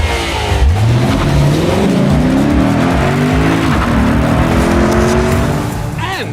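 A compact Lexus sedan with a naturally aspirated V8 revs hard, its engine note sweeping upward in loud rising harmonics that hold steady throughout, with a brief tire squeal or skid near the end.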